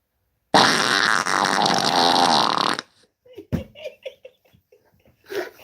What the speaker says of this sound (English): I played 99 different kinds of farts